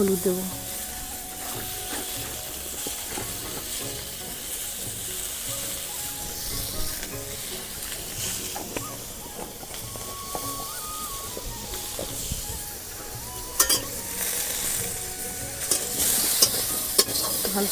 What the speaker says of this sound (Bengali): হলুদ দিয়ে দিয়েছি, আমগুলোকে নেড়ে নিই।